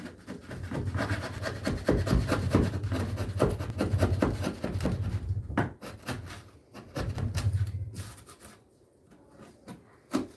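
An IRWIN folding chisel scrapes and rasps against a curved wooden corner, steady close rubbing strokes for several seconds that stop briefly, resume, then fade out.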